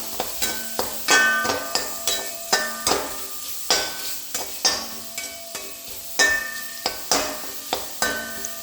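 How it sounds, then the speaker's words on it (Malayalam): Grated coconut stirred and sautéed in a pan for Kerala-style tomato chutney, with repeated sharp scraping taps of a spoon against the pan over a light sizzle, close and steady throughout. "ഇതും ഇട്ട് നന്നായിട്ട് വഴറ്റുക."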